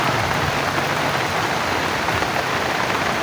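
Heavy rain pours down in a dense, unbroken roar of drops striking surfaces, loud and close, with no voices over it.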